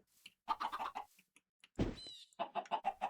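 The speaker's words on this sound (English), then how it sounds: "I think I just heard one lay an egg." In a Minecraft game, chickens give a series of short clucks, followed by a soft pop and then another burst of clucking.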